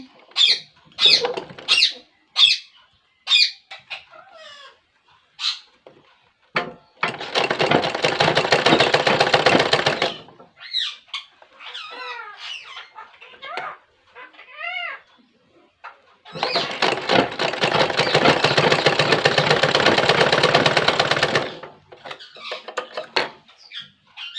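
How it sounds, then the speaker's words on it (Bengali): A sewing machine stitches near the waist of a small handmade garment in two long, steady bursts of rapid whirring, close by. Scattered chirping and squeaking fill the gaps between the runs. "দেখো কোমরের কাছে সেলাইটা চালাচ্ছি এখন"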